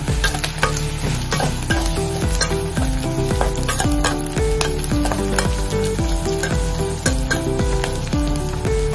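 Onion and garlic, with ginger, sautéing in a pan until brown for tilapia paksiw, a loud steady sizzle broken by repeated scraping and clanking of a utensil stirring against the pan, close up with no talk.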